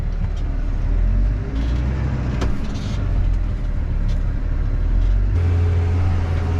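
A tractor sowing barley drives along with a loud, continuous engine drone and heavy low rumble. The tone shifts partway through as the load changes, and no voices are heard.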